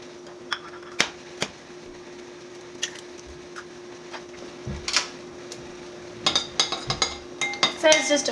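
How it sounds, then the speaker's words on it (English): A spoon clinks against a bowl as eggs are lightly beaten for truffled eggs, with scattered taps at first and then quicker clustered clinking near the end, over a steady faint hum. "we're gonna rough up some eggs in this bowl"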